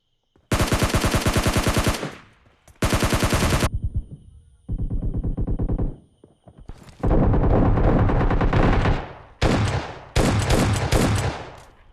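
Bursts of automatic gunfire from the video game PUBG Mobile Lite, several loud rapid volleys separated by short gaps, with no talking.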